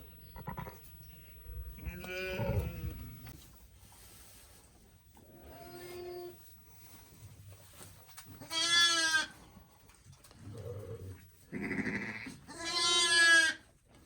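A ewe bleats repeatedly over her newborn lambs in a lambing pen, loud and close, giving several drawn-out, wavering calls with soft shuffling and low rustling between them.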